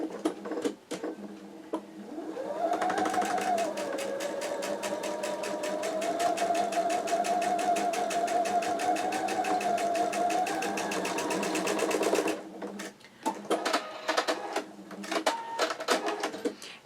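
A sewing machine stitches fabric for a quilt block, running in one long continuous rapid whir for about ten seconds, then stopping and giving way to scattered short taps and handling noises nearby.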